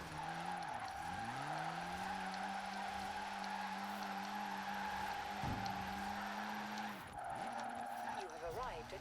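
A Ford Racing Puma in Forza Horizon 4 revs hard through the gears, engine pitch climbing and dropping with each shift and tires skidding briefly, while someone commentates over it.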